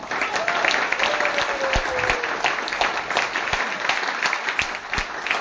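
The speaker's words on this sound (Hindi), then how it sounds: "वो आप अपने स्वयं के लिए ताली बजाएं।" An audience at a meeting applauds themselves, loud steady clapping throughout with a few louder individual claps close by.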